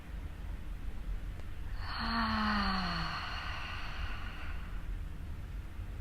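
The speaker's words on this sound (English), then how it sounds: "let's take a breath in to start" One deep, slow breath is drawn in during a yoga session, a soft airy rush lasting about a second that swells and fades against a steady background hiss.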